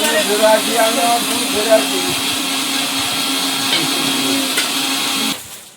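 An electric grinder grinding cashews in a home kitchen, giving a loud steady whirring drone that cuts off abruptly near the end, with voices talking over it.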